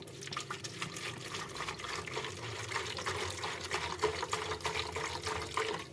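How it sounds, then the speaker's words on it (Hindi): Vinegar glugs from a bottle into cut cucumber and turnip for a watery homemade pickle, a steady liquid splashing and trickling that runs continuously, close and moderately loud with no talking. "मैंने हाफ से भी ज़्यादा बोतल जो है ना इसमें ये जो सिरके की थी ये डाल दी है"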